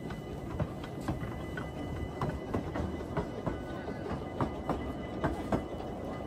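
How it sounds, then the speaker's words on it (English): A train rolls through a theme park, with steady rumble and a regular clickety-clack of wheels over rail joints, moderately close and continuous throughout. "I was determined to go on this train"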